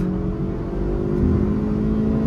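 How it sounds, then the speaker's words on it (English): A Honda City 3rd generation with an i-VTEC engine pulls hard in second gear, a loud, steady engine roar heard from inside the car with no talking. "if I want to pull the car in the 2nd gear, there the IVTech roars to life"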